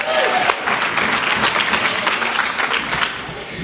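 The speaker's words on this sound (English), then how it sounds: "Everybody give them a round of applause." A room full of people at a recovery meeting applauding, steady dense clapping that fills the whole moment with a faint murmur of voices underneath.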